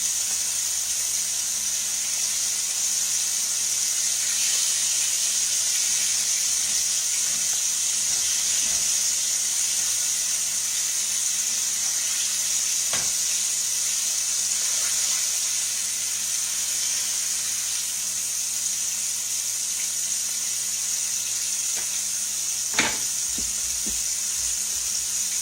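Food sizzles steadily in a hot frying pan, a continuous bright hiss that holds evenly throughout, with an occasional faint clink or tap and no talking.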